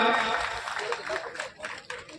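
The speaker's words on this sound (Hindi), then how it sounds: "जोरदार तालियां बजा स्वागत है बहन ज्योति जी मिर्जा का" An audience at a BJP party workers' meeting applauds to welcome a speaker: a dense burst of clapping that thins out slowly over a couple of seconds.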